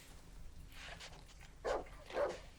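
Two short, faint dog barks ring out in the horror survival game Darkwood, spaced about half a second apart over a quiet, dark ambient background.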